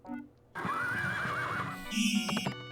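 A horse in Crystal's Pony Tale gives a loud, wavering neigh that rises and trembles for about a second, followed by a snort and a few clip-clop hoof sounds.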